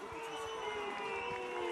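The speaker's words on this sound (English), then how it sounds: "Good booing coming for the ref" Home fans in a rugby stadium boo the referee at a Pro D2 match between Soyaux Angoulême and Grenoble, a loud, sustained, dense crowd roar with a low jeering drone that holds steady throughout.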